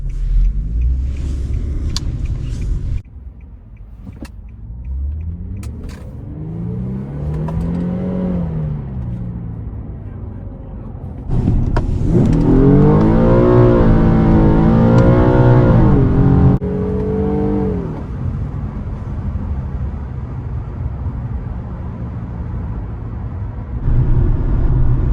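A modded Nissan G37 rumbles at idle, then its engine revs and pulls away in rising, falling surges before settling into a steady driving drone, loud and close from inside the car.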